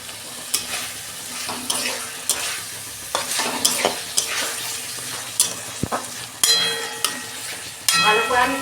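Potatoes are stirred through spiced oil in a pan, with loud close sizzling broken by repeated scraping strokes of a spoon. The strokes come in irregular bursts and nobody speaks over them.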